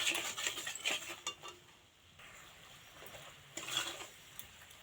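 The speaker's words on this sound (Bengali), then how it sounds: "এটা খুব ভালো করে একটুখানি নাড়িয়ে নেব চিনিটাকে একটুখানি গলিয়ে নেব চিনিটাকে" Sugar and water being stirred in a pan to melt for crispy morali sweets, with a soft scraping and clinking of the spoon against the pan, louder at first and then again near the end.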